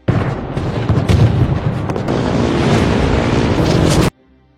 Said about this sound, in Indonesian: Hujan peluru datang menembaki pesawat yang mereka tumpangi.